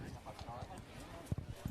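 A horse's hooves clip-clop faintly in the arena at a campdraft competition while an announcer talks over them in a steady stream of commentary.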